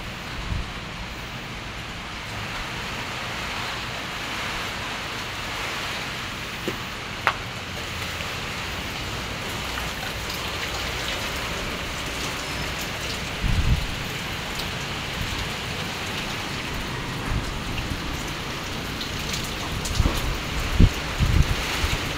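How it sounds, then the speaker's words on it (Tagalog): Heavy rain in Mulanay during Typhoon Uwan, a steady loud roar of downpour on surfaces with occasional sharper drips and gusty thumps, continuous throughout with no voices. "Maraming ulan mga ka-moment."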